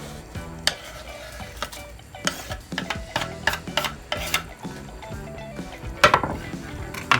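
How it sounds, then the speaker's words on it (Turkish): A spoon scrapes and clinks against a pot in repeated strokes while a minced meat and pea stew sizzles steadily underneath. "karıştırıyorum."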